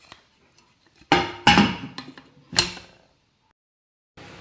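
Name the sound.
closing the pressure cooker lid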